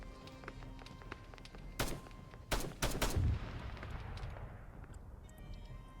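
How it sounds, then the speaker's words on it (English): Machine gun fire in the Arma 3 military video game: a few sharp bursts of shots, fairly distant, over a steady battlefield ambience, then a long fading rumble. "I'm hearing machine gun sounds."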